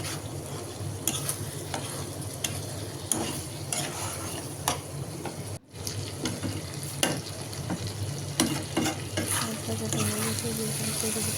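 Steady oil sizzling and crackling from fish belly pieces frying, with occasional stirring scrapes and utensil clinks close by; no talking.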